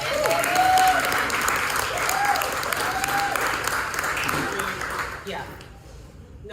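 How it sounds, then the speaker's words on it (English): Audience applause at a community event, a crowd clapping and cheering with voices mixed in, fading out near the end. "She needs a round of applause."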